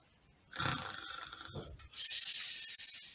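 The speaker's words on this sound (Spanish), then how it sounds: "porque era él el que estaba roncando" A father asleep in a chair snores, two drawn-out rasping breaths close by, the second louder and hissier than the first, with no talk.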